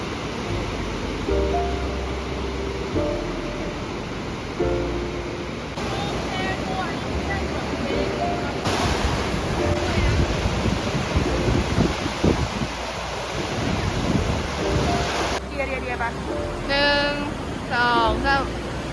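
Sea waves wash onto a beach at Hua Hin in a continuous broad surf roar with wind buffeting the microphone, while people talk and laugh over it throughout.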